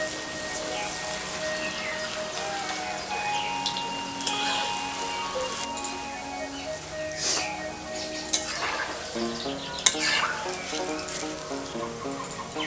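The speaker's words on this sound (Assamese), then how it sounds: "কাচকলৰ যিখিনি কোফতা সেইখিনি আমি ভাজি আছোঁ।" Raw banana kofta fries in hot oil with a steady crackling sizzle and scattered pops, and faint bird calls sound in the background.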